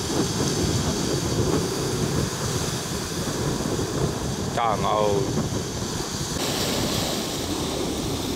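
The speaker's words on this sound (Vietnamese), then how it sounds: "sóng nó dập kìa." Rough sea waves slam and roar against a small, overloaded wooden boat just offshore, a loud continuous wash and crashing with wind, as a frightened person cries out over it.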